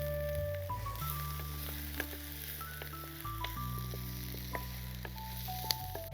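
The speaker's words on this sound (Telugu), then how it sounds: "ఉల్లిపాయ తరుగు ఇవన్నీ కూడా వేయించుకుందాం" Chopped onions, green chillies and capsicum frying in about three spoons of oil for veg manchurian, a soft steady sizzle beneath sustained background music with a few sharp clinks of stirring.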